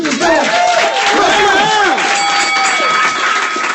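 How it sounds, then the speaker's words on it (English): An audience at a live comedy roast battle tournament cheers loudly with rising and falling whoops and shouts, a dense crowd roar lasting throughout. "clap your hands. Let's get this going."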